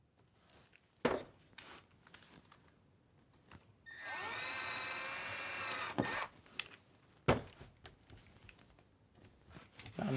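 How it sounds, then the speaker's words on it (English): A power drill pre-drills screw holes in a cedar camper van ceiling, one whirring burst of about two seconds close by, surrounded by quiet knocks and handling sounds. "I'm just pre-drilling the ceiling, not the roof."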